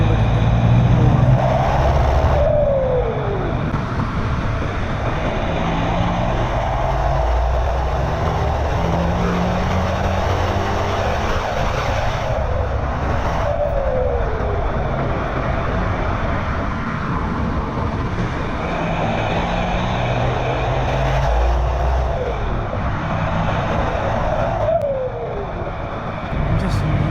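A VW Golf MK5 PD150 diesel with a new exhaust drives hard, a loud continuous engine drone with rising whoosh and three distinct turbo blow-off swoops spaced about eleven seconds apart.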